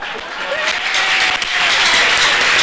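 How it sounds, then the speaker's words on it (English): Applause from a church-style congregation at an empowering event, a steady wash of many hands clapping that swells louder toward the end, with voices calling out underneath. "you are clapping like that"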